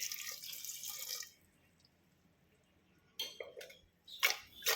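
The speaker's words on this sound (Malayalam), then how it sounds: "ഇനി ഇത് വേവാൻ ആവശ്യമുള്ള വെള്ളം ഒഴിക്കാം" Water splashes and pours into a pot of Chinese potatoes (koorka) in short bursts, with quiet pauses between, close by and fairly soft.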